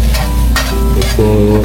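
Japanese-style fried rice (yakimeshi) stir-fries loudly in a pan, with a continuous close sizzle and scraping while a person talks over it.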